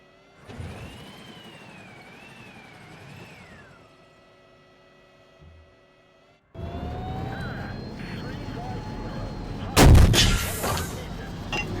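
Tank cannon of an M1A1 Abrams main battle tank firing in the War Thunder video game, a sustained engine and whine bed building to a sharp, loud blast near the end, with voice callouts heard amid the noise.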